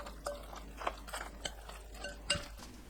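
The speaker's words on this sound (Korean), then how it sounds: "골고루 섞어줍니다." Corn kernels being stirred into a batter in a roomy mixing bowl for a microwave sausage bread, a spoon scraping and tapping the bowl in soft irregular strokes, close and fairly quiet with no talking.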